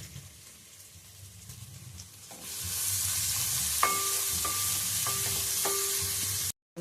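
Onions hit a hot pan and start to sizzle loudly, with spoon scrapes against the pan as they are stirred. The frying is steady and close, and no one talks over it.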